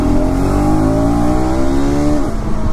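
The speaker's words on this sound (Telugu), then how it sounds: "After 7000 RPM this engine is picking up." KTM ADV 250 motorcycle engine revving hard, its pitch climbing steadily through the rev range in one continuous loud pull with no talk over it.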